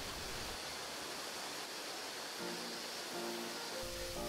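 Water drops 69 meters at the first falls of a three-tier waterfall along a mountain walking trail, heard as a distant, faint, continuous broadband rush that stays steady throughout, with a few faint tonal sounds near the end.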